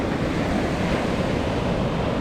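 Sea waves breaking on Chavakkad beach, a loud, continuous rushing surf with wind buffeting the microphone, close and steady throughout, no talking.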